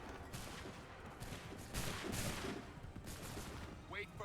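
Musket volleys ring out in Assassin's Creed III as massed guns fire in repeated broadband bursts. The blasts overlap into a rolling, crackling barrage, with loud swells between steadier stretches of shot noise.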